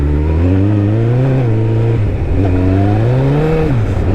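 A motorcycle engine holds around 3,500 RPM in sixth gear, a loud, steady close drone with a brief dip near the middle and a slight rise and fall in pitch.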